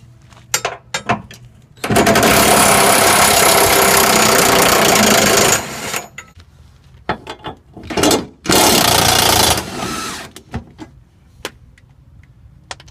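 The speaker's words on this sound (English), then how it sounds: "now I'm going to get my 17mm socket ready to go around and get those 4 subframe bolts" A power tool with a 17mm socket spins off rear subframe bolts on an S14 240SX, firing in two loud, close bursts of several seconds each, with clanks and handling noises around them.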